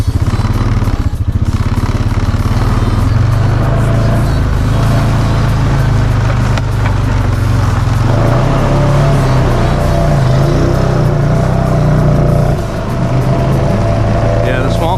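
A Honda Foreman ATV in four-wheel drive churns through deep swamp mud, its engine a loud, close, steady drone with shifting revs throughout.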